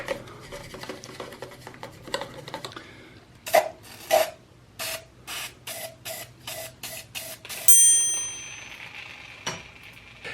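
A Brompton bicycle gets sprayed and then scrubbed with an old toothbrush to clear rust. There are a run of rhythmic short scrubbing strokes and some clinks, a longer spray hiss near the end, and light handling noise at the start.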